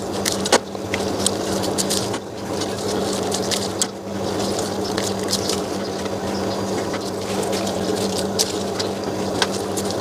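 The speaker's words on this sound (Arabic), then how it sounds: "المهم اني اعصر عليه كميه عصير ليمون كتير كده حلوه" About seven halved lemons are squeezed by hand over a dish, with repeated wet squishes and the patter and drip of juice in an irregular rhythm close by.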